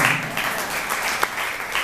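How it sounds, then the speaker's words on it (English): An audience in a room at a presentation claps in a steady, moderately loud round that holds evenly throughout. "I want to give a huge round of applause to everyone in this room"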